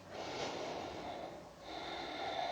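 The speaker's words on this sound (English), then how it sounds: "Breathing deeply." Slow, deep breaths during a yoga hip-opening session, heard as soft, airy inhales and exhales that are close and quiet, with no talking.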